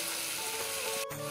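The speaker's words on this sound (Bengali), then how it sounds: "পনির ভাজা তেলটাতে এখন আলুটা ভেজে নিব।" Potatoes sizzle in the oil left over from frying paneer, a close, steady frying hiss with a short scrape of stirring near the end.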